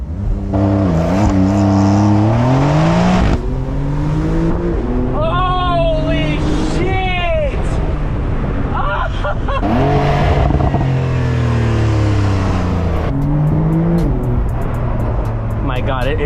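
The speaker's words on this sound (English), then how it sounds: "The launch control is so addicting." Porsche 911 Carrera S (992), a twin-turbo car with around 400 horsepower, launching hard under launch control, its engine note rising through repeated upshifts, loud and close, with people talking over it.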